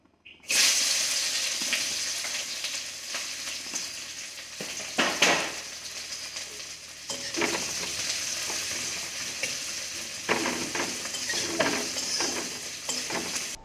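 Eggs frying in a pan for a home-style egg curry give a steady sizzle, with stirring scrapes and a few sharper clatters running throughout. No one speaks.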